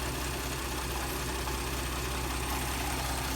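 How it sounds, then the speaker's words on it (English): A 2013 Ford F-150 EcoBoost engine idles steadily after several minutes of running, a continuous low mechanical hum and rumble with no gaps and no voices. "I have had this engine running for a few minutes now, which is what you want to do."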